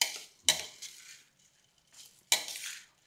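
Bhel being tossed and mixed with cooked moth beans in a bowl, two separate bursts of scraping and rustling, each fading out, with quiet pauses between them.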